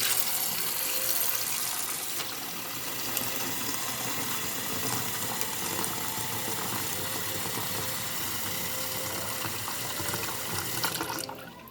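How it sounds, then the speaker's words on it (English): Steady rushing of water pouring from a tap into a bowl for an egg ice bath, continuous and fairly loud throughout with no voices. "I put some water in here."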